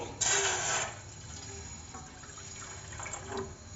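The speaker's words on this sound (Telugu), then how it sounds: "ఇప్పుడు ఒక బౌల్ తీసుకునేసి మనము ఒక కప్పు వాటర్ వేసుకుందామండి" A cup of water is poured into a bowl while making crispy bakery-style maida chekodilu, a brief splash at the start followed by quieter trickling and faint clinks.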